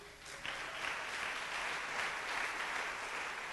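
Steady applause from a church congregation fills the room, a dense continuous patter of clapping that swells slightly and holds at an even level throughout.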